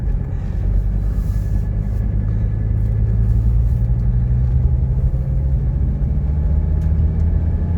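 A 1985 Mercedes 300D diesel on a test drive in Georgia, with a steady, loud low rumble of engine and road noise filling the cabin continuously, no talking.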